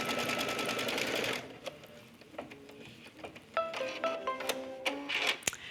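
An embroidery sewing machine stitches in the hoop while an in-the-hoop passport case is made, with a fast dense burst of needle strokes that stops abruptly, followed by quieter clicks and beeping tones.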